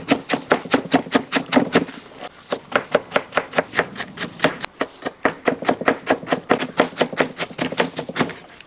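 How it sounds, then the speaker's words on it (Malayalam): A knife chops half a small cabbage thinly on a board in quick, even, rhythmic strokes, a crisp close tapping that runs steadily with a brief pause partway through. "ഒരു കാബേജിൻ്റെ പകുതി ഇതേപോലെ കനം കുറച്ച് അങ്ങോട്ട് അരിഞ്ഞെടുക്കുക."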